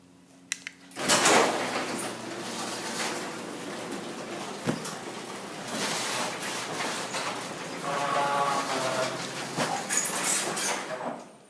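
An older Craftsman 3/4 hp chain-drive garage door opener runs on a garage door even older than its motor. A couple of sharp clicks start a steady rattling rumble that continues for about ten seconds, with a faint whine near the end.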